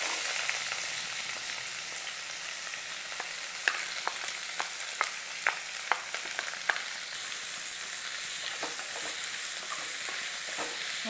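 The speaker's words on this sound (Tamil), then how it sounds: "வெங்காயம் நல்லா வதங்கி" Onions sizzle and fry in hot oil for a prawn masala, a steady close hiss with a few sharp spatula scrapes and taps partway through, no voices.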